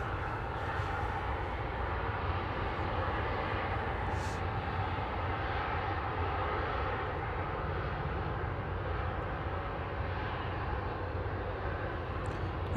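A jet airliner landing at Manchester Airport, a steady broad engine roar that holds loud and even throughout, with no voices over it.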